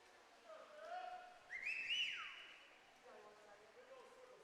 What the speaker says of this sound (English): All right, so we can hear some whistling.